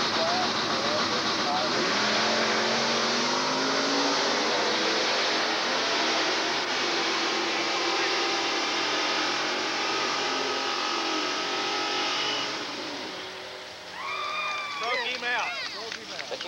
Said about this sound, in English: Out of Amarillo, Texas, with the Pontiac running for Team Amarillo down on the 11th flat. Ford Mustang running for Paris Dragway